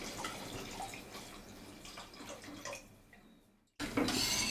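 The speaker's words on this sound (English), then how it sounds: "So into this I'm adding in the second and third coconut milk." Second and third extract of coconut milk poured into melted jaggery in a pan for channa dal payasam, a steady liquid splash that fades to near silence, then returns loudly at the end.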